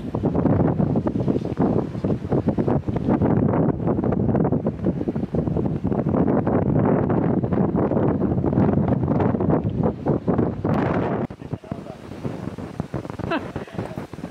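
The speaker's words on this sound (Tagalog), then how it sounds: "Ang hangin." Loud, steady wind on a hilltop in Siquijor buffets the microphone for most of the stretch, then drops suddenly near the end, leaving a quieter gusty rumble.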